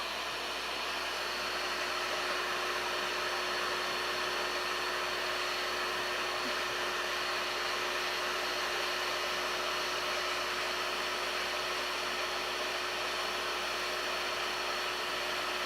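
A heat gun blows steadily, drying gel on wood for a wood-burning craft, giving a constant whooshing hiss with a fixed motor whine, even and unbroken throughout with no talking.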